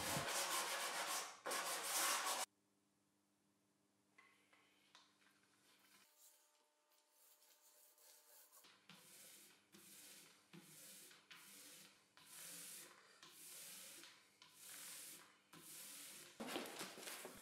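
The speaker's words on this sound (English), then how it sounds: "Now I'll sand it down and apply 2 coats of varnish to the underside of the top" Sandpaper rubbed over the wooden underside of a workbench top, heard as repeated close scraping strokes in bursts with short pauses between them, loud at the start and end and softer through the middle.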